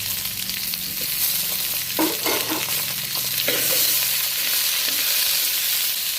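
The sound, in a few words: bottle gourd pieces, tomato, peanuts, chana dal frying in pan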